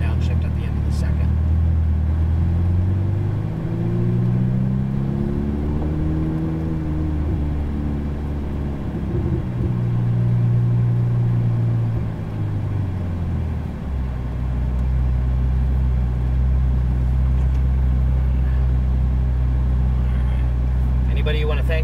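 Ferrari 488 GTB engine on a track ride-along, droning steadily from inside the cabin as revs rise and fall through a couple of shifts, with a voice talking over it.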